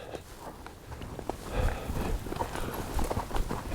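A relaxed horse walks with steady, moderately close clip-clop hooves, slightly irregular in rhythm, over low background noise.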